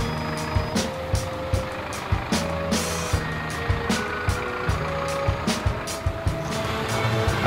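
A night convoy of six trucks hauling Airbus A380 parts rumbles along with repeated reversing beeps at a regular rhythm, plus intermittent air-brake hisses and clanks over the idling engines.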